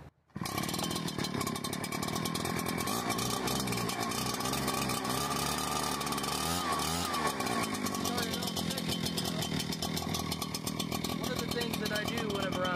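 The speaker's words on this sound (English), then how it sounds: "we'll put the little switch on, and we'll see how this 9010 blower works" A 9010 leaf blower's small two-stroke engine fires up after a brief pull and settles into a loud, continuous buzzing roar close by, its pitch wavering slightly as the throttle shifts.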